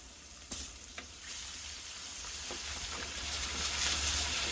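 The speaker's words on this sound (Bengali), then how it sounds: "পেঁয়াজগুলোকে কিছুক্ষণ আমি ভেজে নেব।" Chopped onions fry in oil in a pot for a Bengali fish curry, a steady soft sizzle that grows slightly louder, with a few light clinks of stirring near the start.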